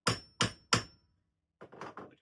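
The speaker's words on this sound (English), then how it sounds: "And I think we just hammer." Three sharp, evenly spaced hammer strikes ring out up close, followed by a brief pause and a quieter cluster of knocks.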